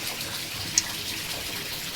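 Coconut oil pours into a pan for homemade beef biryani, a steady liquid hiss close by with one small bright tick partway through.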